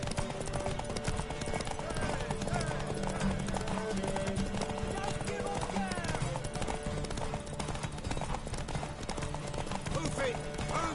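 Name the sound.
horse hooves galloping in The Witcher video game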